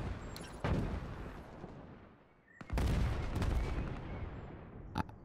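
Steyr AUG rifle fire in the shooter game Ironsight comes as sharp, loud bursts of rapid shots with echoing tails, a short gap between volleys and a final single crack.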